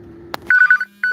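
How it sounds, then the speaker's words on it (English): Telephone ringing in a home: a brief buzzy ring tone sounds, then electronic ringtone bursts follow in two clusters, loud and near, with no speech. "All the phones ringing."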